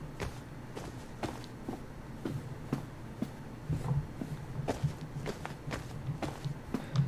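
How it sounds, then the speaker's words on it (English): Footsteps on grass in a video game, a steady walking pace of soft, evenly spaced steps at moderate loudness over a low background hum, with no talking. "we're walking on grass right now, so we should hear the grass footstep when we start walking"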